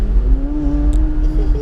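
A McLaren 570S Spider in sport mode holds a loud, steady engine drone close up from the cabin, with a rising tone near the end and brief speech over it.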